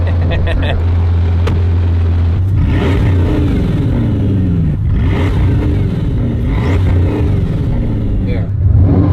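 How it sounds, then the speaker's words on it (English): Bugatti engine with four turbochargers accelerating hard, a loud steady rumble with rising harmonic sweeps as it climbs through gears, close and continuous, with voices present in the cabin. "So it's like turbo noise. It's 4 turbos."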